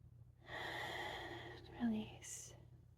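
A slow, soft inhaled breath during a guided relaxation exercise, close and quiet, lasting about two seconds and ending in a faint airy sniff.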